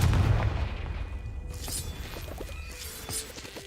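A Confringo fire-blast spell bursts in Hogwarts Legacy with a heavy low boom at the start that decays into crackling debris and scattered small impacts over a few seconds, with no talk.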